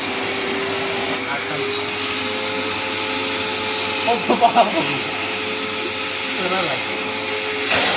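A TOTAL 2400W industrial vacuum cleaner runs with a nozzle attached, a loud, steady, close motor roar that continues as someone speaks briefly over it.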